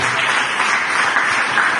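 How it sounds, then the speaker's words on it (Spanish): A church congregation claps for the Lord in a steady, even patter of many hands, filling the room at moderate loudness for a couple of seconds with no speech over it. "Bríndele un aplauso al Señor"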